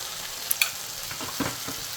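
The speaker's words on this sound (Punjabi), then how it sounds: "ਟਮਾਟਰਾਂ ਸੇਕ ਲੱਗ ਗਿਆ ਹੈ ਤੇ ਥੋੜੀ ਆਪਾਂ ਹਲਦੀ ਐਡ ਕਰ ਦਿੱਤੀ ਆ" Tomatoes with turmeric and salt sizzle softly in a pan for veg pasta, a steady frying hiss broken by a couple of sharp utensil clicks and light stirring scrapes.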